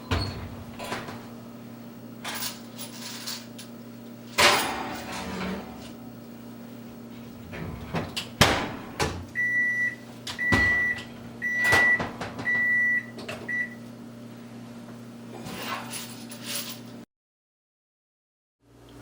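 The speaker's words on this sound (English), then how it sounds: "throw it in the oven for an hour" Microwave oven running with brass .223 rifle cases spread evenly inside, a steady low hum under clattering and clicks from opening and closing, a series of short beeps partway through, then silence.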